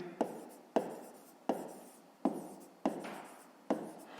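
A pen writes on paper in short, quiet strokes, making six evenly spaced scratchy scribbles, close and soft, with no talk over them.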